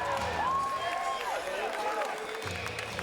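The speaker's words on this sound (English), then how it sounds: "The crowd going crazy." Crowd noise from a mixed martial arts event as a fighter walks into the octagon, a steady loud roar of spectators filling the whole stretch with an announcer's voice and other talk over it.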